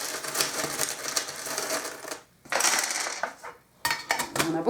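Small divination charms are shaken and dropped in bursts of bright clinking and rattling, close and fairly loud, with brief pauses between handfuls.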